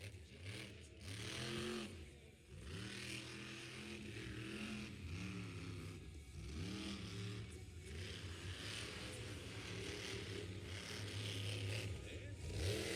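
A monster truck named Blockhead revs its engine through a donut and a big air jump at an outdoor event, with rising and falling engine roars at a distance under crowd and announcer noise.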